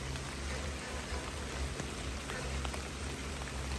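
Steady rain falls while vegetables are gathered outdoors in a rural setting, a dense even patter close by with no voices.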